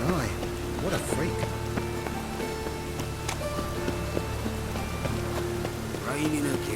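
Steady rain pattering over a game world in The Witcher 3, a constant wash running throughout with some background speech and tonal game sounds layered on top.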